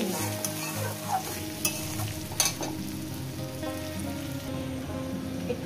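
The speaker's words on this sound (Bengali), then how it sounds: "মিনিমাম 1/2 চামচের মতন আমি আদা বাটা দিলাম। দিয়ে এটাকে দিয়ে একটু কষিয়ে নিই" Small river fish curry with about half a spoonful of ginger paste sizzles and is stirred in a pan, a steady loud frying hiss with scraping stirs throughout.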